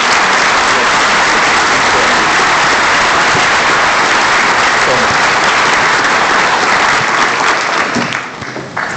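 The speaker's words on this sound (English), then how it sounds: "A big round of applause" Sustained, loud applause from a large crowd, a steady wash of clapping that fades slightly at the very end.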